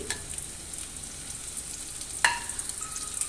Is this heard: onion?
yes